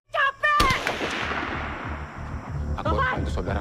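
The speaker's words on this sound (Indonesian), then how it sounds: "Tiba-tiba terdengar suara tembakan" Sharp gunshots crack amid a film soundtrack, a burst of heavy firing followed by rhythmic thumping, with brief voices at the start and end.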